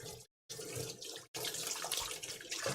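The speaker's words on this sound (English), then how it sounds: "So I just want to kind of give it a nice rinse, suds it out, and then set it over here to dry" A bowl is rinsed under a running sink tap, a steady close water stream broken by two short silent gaps.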